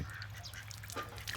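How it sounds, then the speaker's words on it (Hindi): Ducks floating on water quack and honk in short, nasal calls, several overlapping bursts close by over a low background rumble. "तैरती हुई बत्तखें जो बहुत ही खूबसूरत लगती है।"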